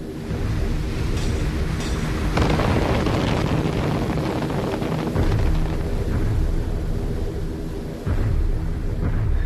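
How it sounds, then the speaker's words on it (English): Flak barrage bursting around WWII bombers flying straight and level to the target, heard as a loud continuous roar of rumbling blasts and engine drone with a sharp burst near the middle and another toward the end. "bombers head unescorted straight into a flak barrage to drop their deadly load"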